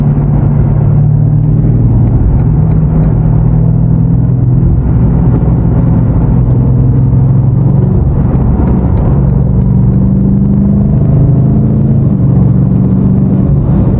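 A BMW F90 M5 Competition pulls forward in city traffic. A continuous loud engine drone rises and falls with moderate throttle, heard close from inside the cabin with no talk.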